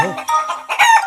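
A single loud rooster crow rings out up close, rising and breaking into a strained, drawn-out call.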